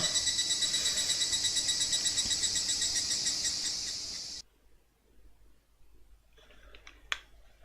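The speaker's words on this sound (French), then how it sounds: "Je déteste le bruit de cigale." Cicadas in a video game drone loudly with a rapid rhythmic pulsing buzz, then stop abruptly partway through, leaving near silence and a few faint clicks.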